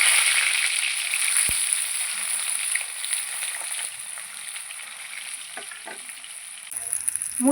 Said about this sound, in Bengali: তেলটা আমি খুব ভালো করে গরম করে নিয়েছি, এবার মুইঠাগুলো ভেজে নেব।